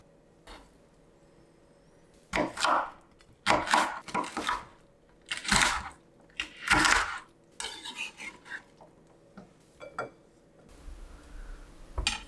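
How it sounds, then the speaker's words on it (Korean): A knife chops paprika into coarse, onion-sized pieces after the seeds are removed. Close, irregular chopping strikes come in short clusters with quiet gaps between them, and no one speaks. "파프리카도 양파와 비슷한 크기로 다질게요."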